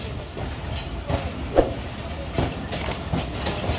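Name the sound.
Karachi Express train at station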